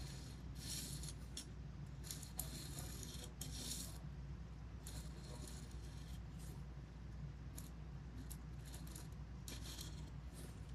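Knife blade drawn across the stone of a guided sharpening system, heel towards tip: a steady gritty rasp of repeated close strokes, with no talking.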